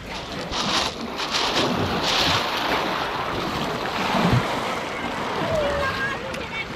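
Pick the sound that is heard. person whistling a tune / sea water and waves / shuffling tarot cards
sea water and waves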